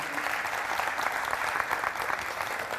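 Applause from a theatre audience at a drama festival after a troupe's performance, a sustained, even roar of many clapping hands, somewhat distant and moderately loud, with no speech.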